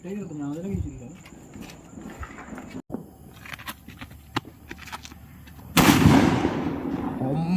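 Firecrackers bursting outdoors for the Vishu festival in Kerala, with several sharp cracks spread across the scene and a loud, dense burst near the end, amid background chatter and ambient noise.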